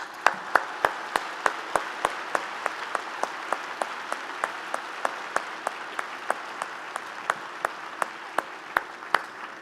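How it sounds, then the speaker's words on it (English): Audience applause at a university convocation ceremony, a steady wash of many hands clapping with distinct sharp claps on top, moderately loud and sustained without talk. "I would like you all to join me in giving a very warm round of applause"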